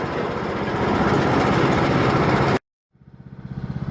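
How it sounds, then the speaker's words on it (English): A small lawn mower engine runs loud and close with a rough, pulsing drone, cuts out abruptly to near silence, then restarts and revs back up in rhythmic bursts. "That's a good little mower."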